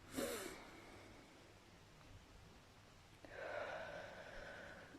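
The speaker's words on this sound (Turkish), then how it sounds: "karnınıza ve göğsünüze elinizi koyup nefes alırken" Deep breaths for a relaxation breathing exercise with hands on belly and chest: a brief sharp inhale, a quiet pause, then a longer airy breath, close and soft, with no talk.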